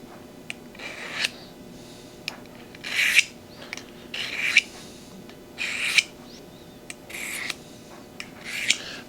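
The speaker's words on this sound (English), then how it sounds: "Boy, this diamond stone, it don't take long." A blade is drawn across a fine and coarse diamond stone in several separate rasping strokes with short pauses between, close and clear, with faint ticking in the gaps and no speech.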